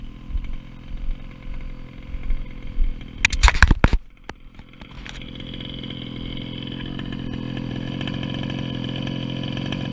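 A small nitro-powered 1/5-scale RC car engine revs and crackles briefly, then settles into a steady, loud buzzing idle that runs on without a break.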